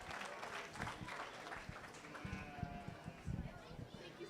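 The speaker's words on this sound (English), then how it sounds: "Give these two kids a nice round of applause here" Audience applause at a 4-H market goat show at the Elbert County Fair 2023, a steady, moderate patter of clapping that runs under a voice talking throughout.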